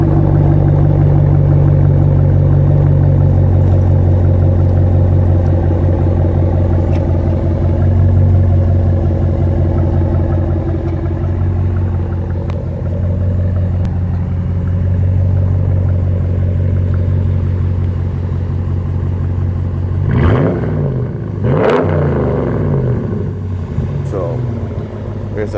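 A Dodge Ram Hemi V8 with a Y-pipe muffler delete idles with a loud, steady, deep exhaust rumble, then a couple of sharp revs near the end; someone talks over it.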